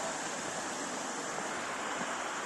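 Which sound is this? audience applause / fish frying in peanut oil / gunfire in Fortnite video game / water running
water running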